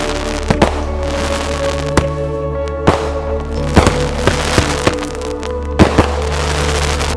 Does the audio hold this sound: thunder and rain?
no